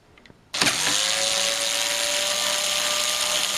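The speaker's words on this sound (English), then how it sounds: "just have to undo the power supply over here, which can easily be done. Hang on. Okay, so we're just going to unscrew it here." A screwdriver whirs steadily while backing out the screws on an old PC's power supply. It kicks in abruptly after a short quiet moment and then holds a constant, close, buzzing drone.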